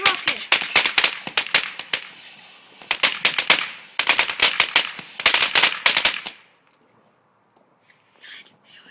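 Homemade firework rocket with a glow stick attached, its launch heard as a long run of sharp crackling pops in rapid bursts over about six seconds, then near silence with faint sounds.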